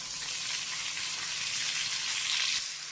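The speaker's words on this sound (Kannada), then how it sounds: "ಇದಕ್ಕೆ ನಾನು ಈಗ ಫ್ರೈ ಮಾಡ್ಕೋಬೇಕು ನಮಗೆ ಈರುಳ್ಳಿನ" Sliced onions sizzle steadily in hot oil for a chicken fry masala, a dense, even crackling hiss that stays close and loud throughout with no voices over it.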